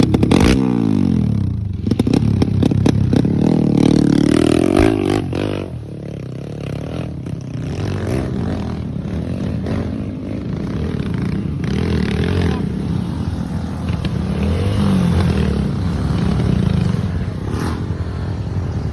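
Enduro motorcycles revving at a race event in Phrae, Thailand, engines roaring and bogging close by with clattering and scraping over rough ground, loud throughout with a busy crowd-like background.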